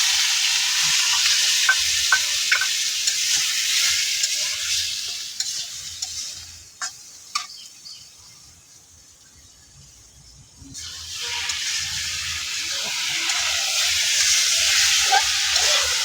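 Taro and potatoes sauté with spices in a pan, a bright sizzle with scattered stirring clicks. It fades almost to silence midway and then returns to a full hiss.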